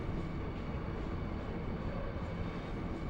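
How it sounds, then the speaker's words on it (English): A steady, loud rumbling train sound from Final Fantasy VIII as the train bound for Dayling City pulls out, a continuous broadband roar with no clear individual clanks, heard alone. "This train, bound for Dayling City, will be departing shortly."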